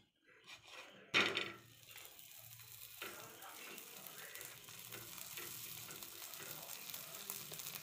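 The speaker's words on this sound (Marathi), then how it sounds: "पाव आता आपण गरम करून घेणार आहोत" Pav bread buns spread with butter on both sides heat on a hot pan, a steady close sizzle that follows a loud opening hiss and crackle and carries on evenly to the end.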